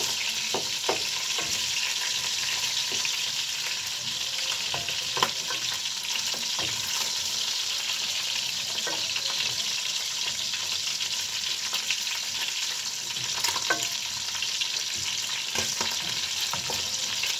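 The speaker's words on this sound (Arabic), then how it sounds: "اديني بقلب في الفراخ اهو، شايفين اخدت اللون الحلو اهو" Chicken pieces frying in a pot for chicken kabsa hiss with a loud, continuous sizzle, while a spoon turns them in occasional scraping strokes, close up and with no voices.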